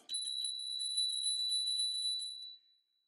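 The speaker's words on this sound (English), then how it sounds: "It does have a bell." The bell on a Dualtron Eagle Pro electric scooter rings as a rapid, bright, close trill lasting about two and a half seconds before stopping cleanly, with no talk over it.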